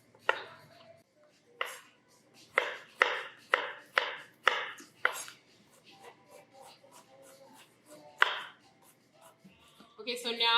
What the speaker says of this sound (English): So you just want to give your olives a rough chop